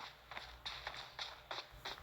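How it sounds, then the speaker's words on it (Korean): Footsteps in the battle royale shooter PUBG, a brisk regular series of about six crunchy steps at an even pace, moderately close over a soft background hum with no talk. "오, 발소리."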